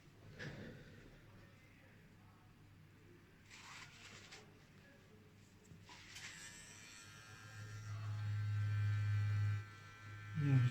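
Rotary tattoo machine buzzing steadily while lining a tattoo, a continuous close electric hum that swells louder toward the end, with faint background voices.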